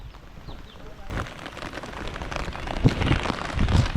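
Steady rain patters and drips on a surface, with some louder close splashes and taps toward the end.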